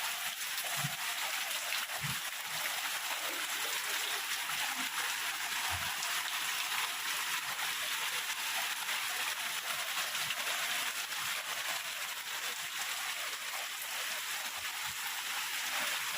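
Rain falling steadily through the night around an old wooden monk's hut at an abandoned Thai temple, blowing in and splashing, a constant broadband hiss with a few soft thuds of drips, no talking.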